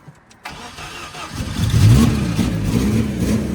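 An old Lada (Zhiguli) engine starts and settles into a rough, steady run with a slightly raspy, uneven exhaust note from a leaking exhaust with a straight-through muffler, close by and loud.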